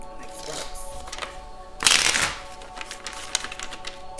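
Tarot cards are shuffled with soft rustling, then a sudden loud riffle of the deck in a burst of about half a second, followed by quieter handling of the cards.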